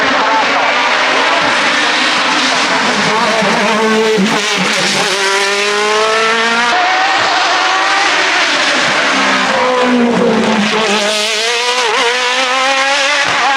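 A race car at a hill climb race on Gorjanci screams past close and very loud, its engine revving and shifting through gears in a sustained roar that rises and falls across two passes.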